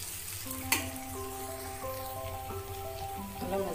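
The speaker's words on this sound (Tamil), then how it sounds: "இந்த எண்ணெயிலே மசியல் கொஞ்ச நேரம் வதங்கட்டும்" Mashed elephant yam masiyal sautéing in oil, a close, even sizzle with a sharp clack early on and light stirring scrapes, and a faint steady tonal hum underneath.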